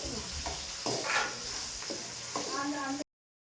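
Mutton fry cooking in a pan for a home anniversary feast: a steady, moderate sizzle with a few stirring scrapes, and a voice partly over it before an abrupt stop.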